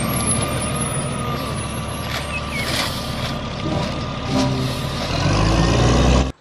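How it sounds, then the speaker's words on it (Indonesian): Garbage truck on a residential street, a loud steady engine rumble with a swell of heavier low-end noise near the end before it cuts off. "Garbage truck untuk membawa sampah di perumahan."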